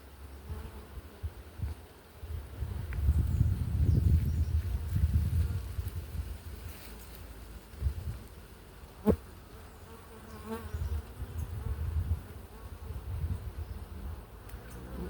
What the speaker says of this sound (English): Bees are being very calm and gentle.